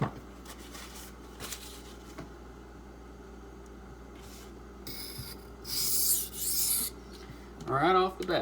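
A knife is drawn across a coarse Imanishi 400 whetstone in a few scattered gritty strokes, close and faint, with harsher, louder scraping bursts toward the end and no talking.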